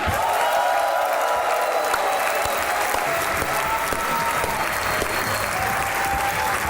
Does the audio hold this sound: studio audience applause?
yes